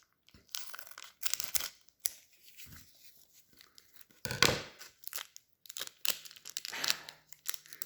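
A glued, sealed Innistrad: Crimson Vow collector's booster box being cut open, with quiet close-up bursts of cutting, tearing and crinkling cardboard and plastic wrap, separated by short pauses.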